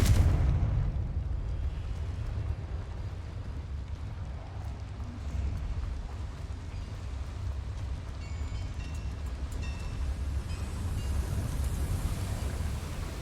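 A Confringo fire spell explosion in Hogwarts Legacy, opening with a sharp loud burst that decays into a long low rumbling roar, with faint high pings and game sounds scattered over the fading tail.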